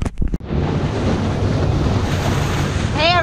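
Ocean waves and strong wind roar close and loud near a mangrove channel that opens onto the sea, a constant wash of surf and gusts after a few brief knocks at the start.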